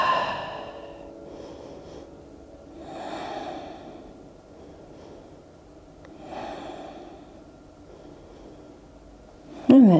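Slow, audible breaths during a yoga stretch, three drawn-out inhales and exhales spaced a few seconds apart, close and fairly quiet, ending in a sharper louder breath, with no talking.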